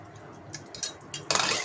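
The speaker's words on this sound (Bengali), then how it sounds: "এবার আমি একটু ঢাকনা দিয়ে দিলাম" A lid goes onto a pan of cooking pointed gourd in mustard, with a few light metallic clinks followed by a louder, brighter clatter as it settles, close by and with no voices.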